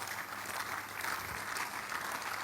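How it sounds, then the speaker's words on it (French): A church congregation applauds in praise during a morning prayer service, a steady, even roar of many hands that fills the whole moment without pause. "Come on, give the Lord a big hand of praise."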